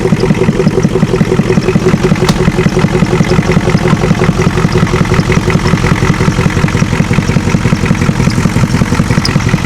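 A 7.3 IDI diesel engine idles with a loud, close, rhythmic clatter, a steady even knocking pulse running throughout with no voices.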